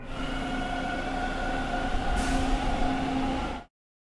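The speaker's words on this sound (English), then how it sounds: "Did I just hear a train?" A subway train rumbles past in a video game, a steady loud roar with a sustained metallic tone and a brighter hiss late on, then cuts abruptly to silence.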